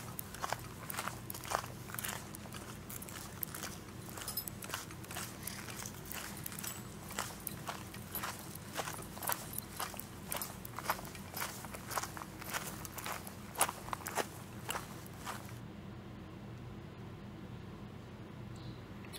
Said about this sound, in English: I'm going to give you guys a moment here to hear what the forest sounded like as we were hiking in it.